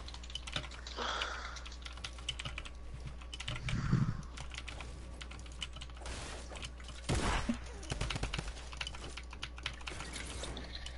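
Rapid clicking of computer keyboard keys during gaming, a steady patter of keystrokes with brief louder bursts over a low background hum.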